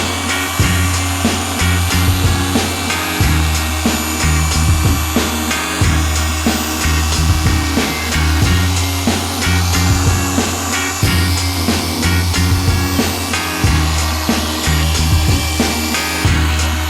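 A machine polisher buffs the paint of a Toyota Supra in a workshop, a loud, close whirring drone pulsing in a steady rhythm as the pad sweeps back and forth, with no talking.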